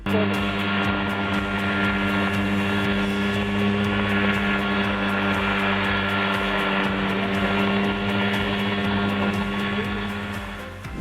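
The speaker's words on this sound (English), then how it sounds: "this strange homemade chopper is actually in the air, floating above the field like a real flying machine" A homemade helicopter with a tube frame, an engine and two blue propellers hovers above a field, its engine and rotors holding one loud, steady, buzzing drone for the whole stretch.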